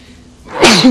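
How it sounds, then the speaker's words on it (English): A single loud, close sneeze from a man in the video game Batman: Arkham Origins, heard alone without talk. "Excuse me, damn it, I can't stop sneezing."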